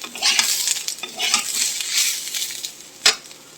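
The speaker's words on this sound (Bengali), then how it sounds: "টমেটোটা দিয়ে আর একটু ভাজবো," Tomato and turmeric fry in a pan with a moderate sizzle, stirred in uneven bursts, then a single sharp clink of a spoon against the pan near the end.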